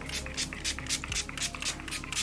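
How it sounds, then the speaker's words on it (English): Too Faced setting spray is pumped onto a face in a quick series of about eight short, close misting spritzes in a steady rhythm. "I'm actually gonna spray my face quick."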